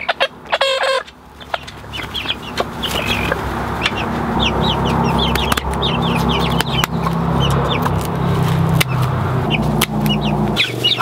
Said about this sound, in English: We got this nice Icelandic chick.